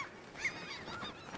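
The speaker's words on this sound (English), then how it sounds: "Birds." Birds, apparently geese, give a few honking calls at a distance: faint, overlapping cries that rise and fall over a soft background hush.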